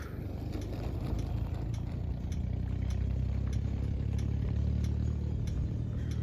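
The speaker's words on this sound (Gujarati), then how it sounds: "અને જો ટ્રેક્ટર આવી ગયું" A tractor engine running nearby, a steady low diesel rumble with a rhythmic ticking clatter that grows slightly louder as it arrives, heard alone without talk.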